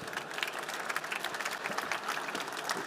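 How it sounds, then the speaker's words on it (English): Audience at a European driver-pricing panel event applauds the panelists with a steady, dense round of clapping from many hands, fairly distant and even throughout, with no talk over it. "Please, round of applause for them."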